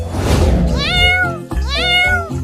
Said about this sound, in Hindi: हमारे घर में एक बिल्ली का बच्चा घुस गया है और वह दूध पी रही है